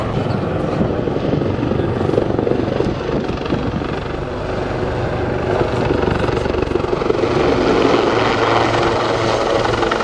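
Helicopter performing precision hover manoeuvres at the Southport Air Show, a loud, continuous rotor thrum and engine roar close by, with no talk.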